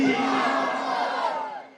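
A large crowd at an Islamic religious gathering chanting a slogan in unison, a loud sustained roar of many voices that swells and then fades.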